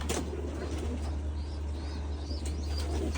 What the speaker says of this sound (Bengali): কবুতর ছেড়ে রাখছে